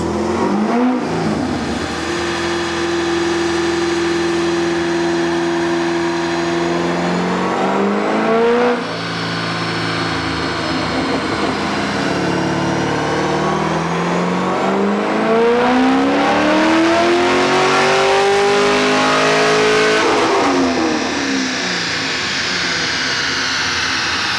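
A car engine revs repeatedly on a dynamometer while its clutch slips, the pitch rising and sagging in long sweeps, loud and sustained with no talking.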